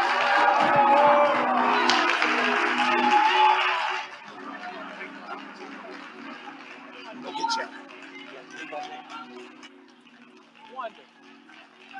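A church congregation at a Sunday service erupts in loud, dense cheering and shouts of praise for about four seconds, then drops to softer scattered voices and murmurs beneath a speaker's continuing talk.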